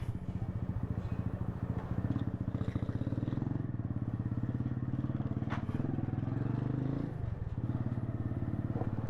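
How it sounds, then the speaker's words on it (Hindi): A motorcycle engine idles and runs after being started on a Karachi street near the Karimabad underpass, a close, low, rapid thumping rumble that stays steady, with a brief dip near the end. "बाइक मैंने कर ली है स्टार्ट।"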